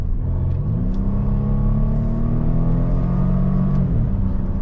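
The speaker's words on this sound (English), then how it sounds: "All right, here we are for a rip in the V90. Everyone's out of our way now. Wide open throttle." A 2021 Volvo V90 Cross Country T6 at wide open throttle, with a loud, steady engine drone rising in pitch from inside the cabin and briefly dipping during a gear change.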